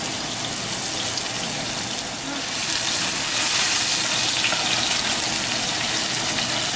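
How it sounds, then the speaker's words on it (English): Onions being added to a very hot oiled skillet give a broad, steady sizzle and crackle that swells slightly midway and continues without talk. "Now we're going to take our onions, add it in slowly and carefully because it's very hot"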